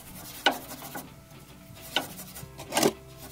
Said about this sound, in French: de l'essence, et puis on frotte